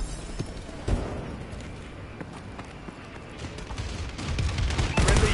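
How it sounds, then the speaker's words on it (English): Bombing run explosions and gunfire in the video game Call of Duty Advanced Warfare, a rumbling battle bed with scattered sharp blasts, swelling into heavier, louder booms toward the end. "Friendly bombing run clearing the way."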